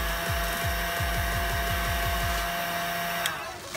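A heat gun blows a steady, loud whooshing hiss while heating the headlight projector housing of a Yamaha R15 motorcycle, with a rhythmic mechanical ticking underneath for the first few seconds before the tone thins out near the end.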